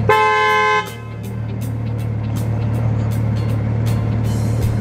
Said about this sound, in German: Hupe.